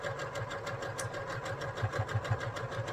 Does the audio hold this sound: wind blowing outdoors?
no